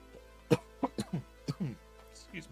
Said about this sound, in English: I don't know where this cough's come from.